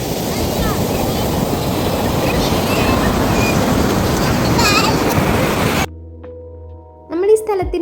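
Sea waves at Oho Beach in Vadanappilly, Thrissur, where a stream meets the sea, roar as a loud, steady broadband wash that fills most of the clip, then cut off abruptly, leaving near silence and a brief faint sound at the end.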